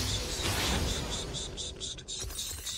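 A voice imitates a lawn sprinkler, giving a rapid, regular ticking hiss that repeats about a dozen times over a steady background, faint and close.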